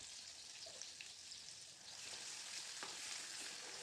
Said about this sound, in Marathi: वाटण तेलात चांगलं परतून घेऊ